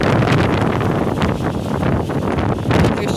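Strong wind from a wind storm roars and buffets a microphone outdoors near a goat, a loud, continuous rush of noise with rough gusting texture and no speech.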